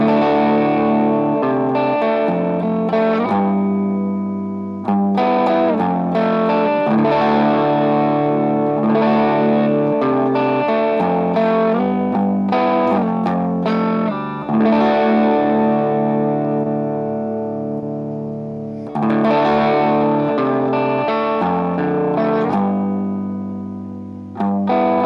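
Distorted electric guitar chords strummed and sustained through a digital Vox AC30 amp model in pentode mode, with thick, crunchy tone and brief gaps between phrases; no voices.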